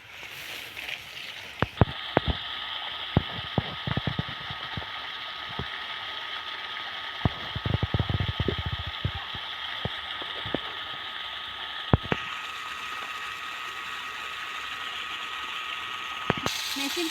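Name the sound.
water pump machine draining a pond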